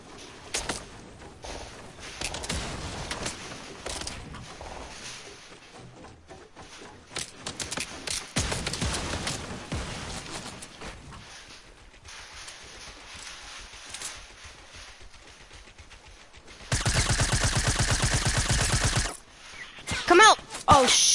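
Gunfire in the Fortnite video game, scattered bursts and rapid clusters of shots at varying distances, with one dense loud stretch of sustained fire near the end.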